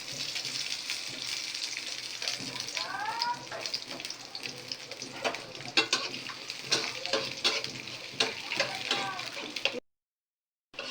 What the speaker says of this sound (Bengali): এখন বাগার দেওয়া হবে।